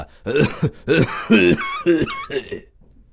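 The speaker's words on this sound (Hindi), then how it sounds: "कहते कहते उसे खांसी आ गई और वह देर तक खांसता रहा" A man coughs repeatedly in a rough, rasping fit, several hacking bursts close to the microphone, then it trails off.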